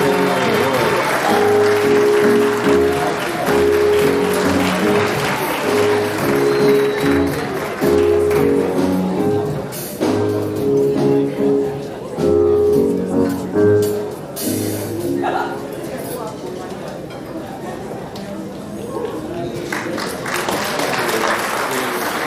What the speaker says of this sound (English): Give a round of applause for that recipient.